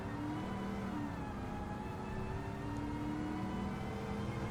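Classic American muscle car engine in Gran Turismo 7, a continuous mid-pitched drone that shifts slightly in pitch as it revs, loud and steady throughout with no talking.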